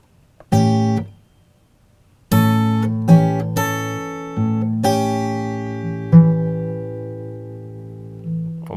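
An acoustic guitar plays a fingerstyle ragtime blues phrase, with plucked chords and single notes ringing out after a brief pause, the picked notes clear and close with lingering sustain.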